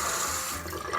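A bathroom sink fills from a newly installed faucet, a steady rushing stream of water that dips briefly near the end, close and fairly loud, with no voices.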